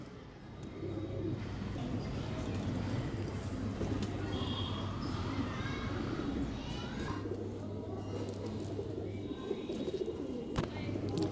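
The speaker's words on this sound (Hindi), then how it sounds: "ये बहुत ही नया कबूतर मैं आपको दिखा रहा हूँ" A young highflier pigeon coos in low, repeated rumbling calls close by, with a steady low hum and faint outdoor background.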